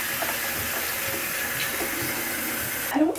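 Tap water runs steadily into a bathroom sink during hair washing, a continuous broadband rush with a brief louder splash near the end.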